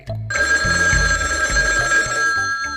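A telephone rings in a Bangla cartoon: a loud electric bell trills in repeated bursts, bright and ringing, with no talking over it.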